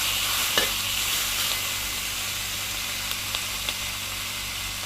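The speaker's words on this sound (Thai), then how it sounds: "ผมเอาเบคอนทอดลงไป" Bacon frying in coconut oil in a hot pan, a continuous close sizzle and hiss with faint occasional clicks.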